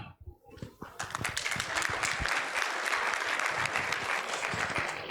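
Loud applause from an audience at an ISKCON Nashik devotional drama, a brief quiet moment at the start, then dense sustained clapping filling the rest.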